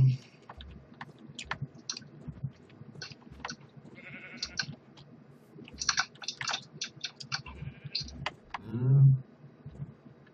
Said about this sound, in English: I found 2 cows and 2 sheep.